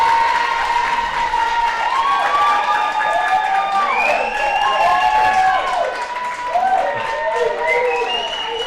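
A crowd of about 3,000 at Skyring Rugby Park cheers and applauds a goal in a rugby nines grand final, loud sustained roaring and clapping while a commentator talks excitedly over it.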